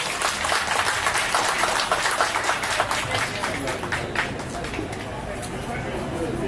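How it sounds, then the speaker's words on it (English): A crowd at a community gathering in the Volta Region applauds, a dense burst of clapping that gradually thins out, with crowd murmur beneath. "Please help me give them a round of applause."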